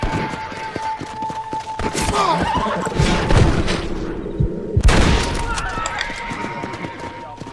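Gunshots ring out in the Western video game Red Dead Redemption, a couple of sharp booming blasts amid a horse's whinny and hoof noise, with someone talking over the game sounds.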